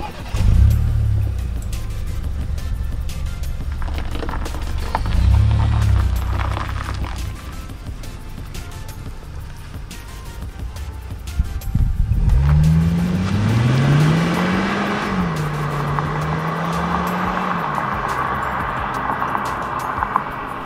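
Seat Leon FR engine accelerating hard, a muffled drone swelling into a loud, rising roar as revs climb and shift through gears, with a brief squeal-like edge as it pulls strongly.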